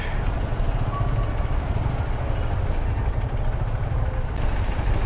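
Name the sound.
heavy road traffic on the Konkan highway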